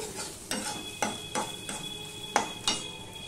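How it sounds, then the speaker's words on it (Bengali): Spice paste sautéing in a wok, a soft sizzle broken by regular scraping strokes of a spatula, about one every half second. "মশলাটা আমি ভালো করে কষিয়ে নেব"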